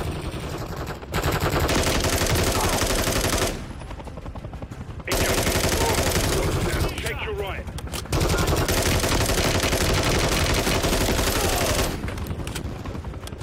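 Sustained, loud gunfire fills a Call of Duty: Modern Warfare 3 campaign firefight in a stadium, with dense automatic bursts broken by brief lulls and faint voices in the mix.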